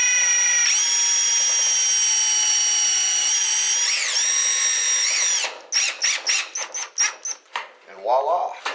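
A power drill drives a self-tapping screw into a metal T8 retrofit light fixture, with a long high-pitched whine followed by a series of short bursts and stops.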